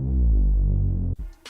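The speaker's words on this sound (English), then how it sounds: "It makes your bass sound really crispy like this." Synth bass treated with RC20 Retro Color air distortion, a loud, deep, gritty tone held for about a second before cutting off abruptly, followed by a faint crackly tail.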